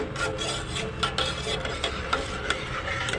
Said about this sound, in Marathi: मी हे गरम पाणी थोडं थोडं घालून मिक्स करून घेते